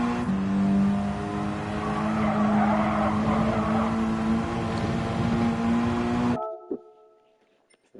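Front-wheel-drive race car at Bathurst, engine droning loudly at steady pitch before the throttle lifts and the sound drops away abruptly to near silence, leaving faint mechanical ticks.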